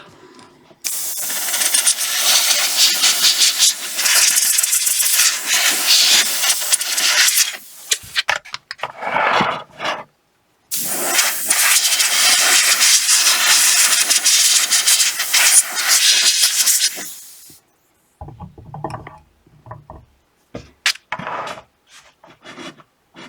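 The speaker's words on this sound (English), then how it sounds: "a quick blast with the airbrush to remove excess pigment" An airbrush blows air over a model locomotive's running plate, smokebox and cab roof to clear excess weathering pigment, producing two long, loud hissing blasts with short gaps and softer bursts toward the end.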